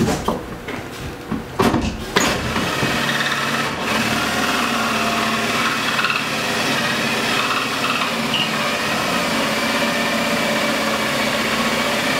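A drill fitted with a makeshift extension bores through framing near a hot PEX line in a cramped space during home rough-in plumbing. A few knocks come first, then a steady, loud motor whine runs for about ten seconds.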